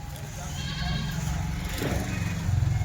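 Kathiawari goats bleat nearby in short wavering calls over a busy background, with people talking at the same time.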